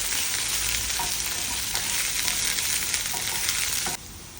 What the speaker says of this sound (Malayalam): നന്നായിട്ട് പച്ചമണം മാറുന്നവരെ നന്നായിട്ട് മൂപ്പിക്കുക